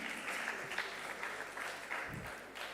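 An audience at a student TED-Ed talk event applauds a speaker with faint, distant and fairly even clapping sustained throughout.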